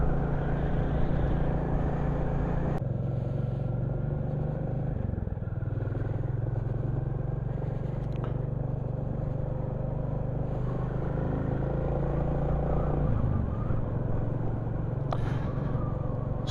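A Royal Enfield Classic 350 thumps along steadily on a running-in ride, its low engine note and road and wind noise continuous and close, with small shifts in pitch as it changes speed.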